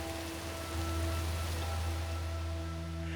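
Rain falling onto nano-treated glass makes a steady, dense hiss of close droplets, even and continuous throughout with a low hum underneath and no voices.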